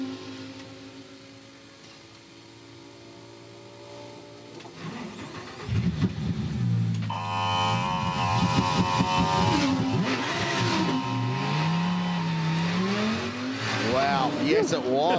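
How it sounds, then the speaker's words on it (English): A GT race car's pneumatic air compressor, which drives the paddle-shift gearbox, whirs steadily in the background of the Bathurst 12 Hour race after the car is restarted, with the engine idling and revving under ongoing commentary. "You could hear the pneumatic air compressor that fires the paddle shift gearbox in those cars working away in the background."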